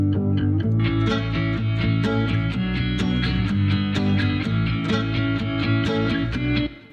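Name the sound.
electric bass together with electric guitars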